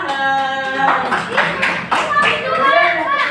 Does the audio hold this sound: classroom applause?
yes